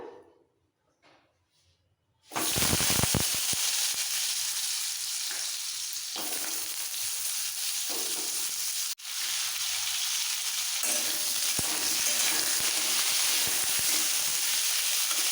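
Potatoes fry in a little oil in a hot wok, a loud continuous sizzle bursting in after a quiet moment and running steadily with small surges as they are stirred.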